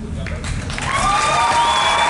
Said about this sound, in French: On applaudit très très fort Astrid de Dragon 2